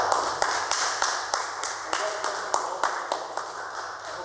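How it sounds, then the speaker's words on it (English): Applause at a Toastmasters public speaking meeting in Cluj, a room full of people clapping steadily with sharp, irregular hand strikes throughout, moderately loud and sustained across the whole moment. "let's give everyone a good round of applause"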